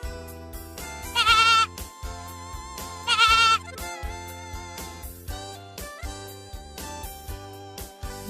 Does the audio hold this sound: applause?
no